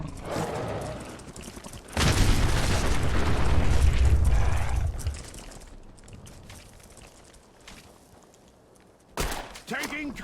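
A grenade explodes in Fallout: New Vegas with a loud, rumbling boom that lasts a few seconds and fades, followed later by a short sharp burst.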